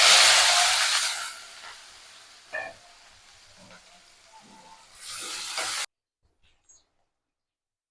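Crushed onions dropped into hot oil with mustard seeds and urad dal give a loud hissing sizzle that fades over a few seconds, then flares again briefly before cutting to silence.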